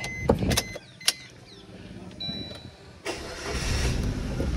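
A used Maruti Dzire sedan starts up: several clicks and mechanical knocks come first, then the engine catches about three seconds in and settles into a steady, close idle.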